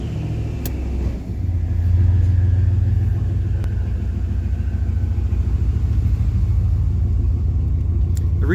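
A carbureted car with a choke and a manual boost controller rumbles loudly as it pulls away and drives, its engine holding a steady, deep drone close by after a brief quieter start.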